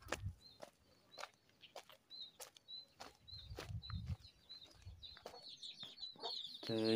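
Chickens in a backyard pen give soft, scattered clucks among other sounds, with a brief louder burst of squawking near the end.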